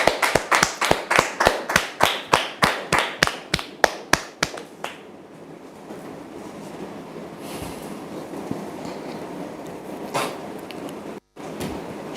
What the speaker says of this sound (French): Je vous demande de la recevoir sous vos applaudissements